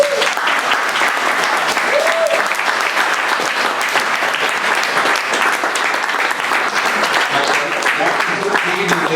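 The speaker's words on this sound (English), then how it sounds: "let's give the panel a round of applause" Audience at an entrepreneurship panel event gives the panelists a round of applause, a full, loud, continuous patter of many hands lasting several seconds, with some cheering mixed in.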